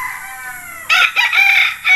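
A young gamecock stag crows nearby in a few loud, strained bursts after a quiet moment, the call broken and uneven.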